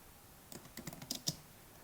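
Quick, light keystrokes on a computer keyboard while coding an F# chatbot with Fable: a few scattered clicks, then a short dense burst of taps, all faint and close with no talking.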